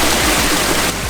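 Fresh water flowing steadily at a pool on a hike in the UAE, a continuous close, loud wash of running water with no voices.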